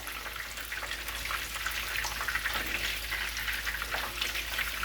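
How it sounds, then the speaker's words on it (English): Chicken pieces frying in hot oil for Nashville hot chicken, a steady dense crackle and sizzle close up, alone with no talk. "Baste them with the hot oil."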